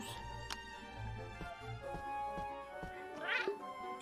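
A cat meows in a video game, one drawn-out mew rising over looping game music and soft background effects.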